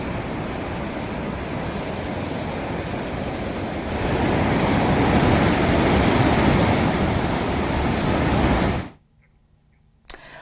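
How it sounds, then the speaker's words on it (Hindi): The flooded Alaknanda river near Vishnuprayag rushes in a loud, dense, unbroken roar of churning water that swells midway, then cuts off abruptly near the end. "विष्णुप्रयाग के पास अलकनंदा नदी ने भी अब अपना रौद्र रूप धारण किया हुआ है।"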